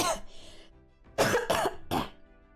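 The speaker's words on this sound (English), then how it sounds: "Oh my god, that cough came out of nowhere." A single person coughs: a short throat-clearing rasp, then a burst of three harsh, close coughs in quick succession.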